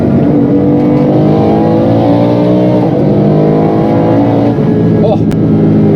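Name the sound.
BMW M3 E46 V10 engine revving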